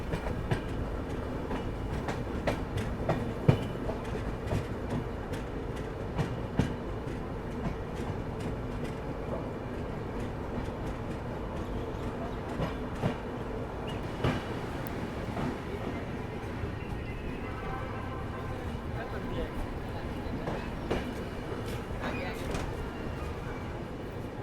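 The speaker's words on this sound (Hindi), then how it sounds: "अगर मैं गलत नहीं हूँ तो ये आपकी आ रही है ट्रेन सीतामढ़ी आनंद विहार एक्सप्रेस।" The Sitamarhi Anand Vihar Express rolls into Hajipur Junction, its wheels clattering in a steady rhythm of clicks over the rail joints beneath a continuous rumble that stays fairly distant.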